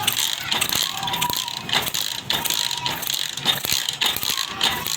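A 70cc motorcycle being kick-started gives a steady run of close, ratcheting mechanical clicks and rattles that repeat in quick uneven bursts, with no voices.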